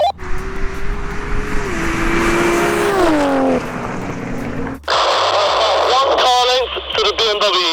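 A 900bhp Toyota GR Supra and an 850bhp BMW M240i roar loudly in a street drag race, their engines climbing in pitch through gear changes. A brief break is followed by another harsh, rising run.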